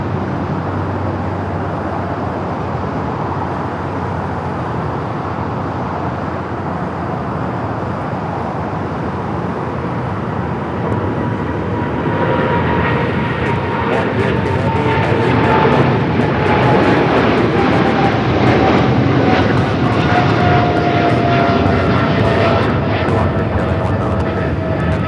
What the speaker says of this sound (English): We got that 777 freighter now rolling it down,